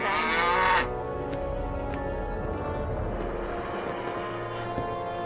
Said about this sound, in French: Il y a même des vaches!